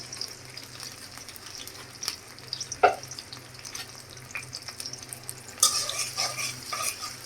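Onions fry in mustard oil in a pan with a steady close sizzle, broken by a few scrapes and clinks of stirring, and the crackle grows louder and busier near the end.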